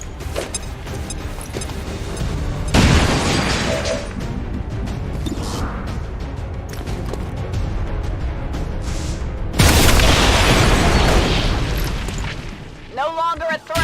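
Grenade blasts in the XCOM 2 video game hit as two loud, booming bursts a few seconds apart. Each is followed by a long, rumbling roar of debris and game noise.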